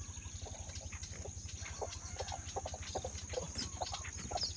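A hen with her chicks clucks softly in short, repeated calls over a steady low hum, faint and a little distant.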